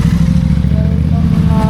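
Several motorcycles idling and starting up one by one at a highway toll gate, a loud close, continuous engine rumble with steady throbbing pulses and faint clatter.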